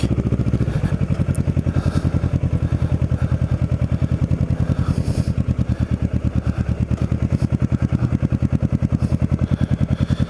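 A motorcycle engine runs steadily close by, a loud, rapid, even throbbing pulse with slight clatter that continues throughout without voices.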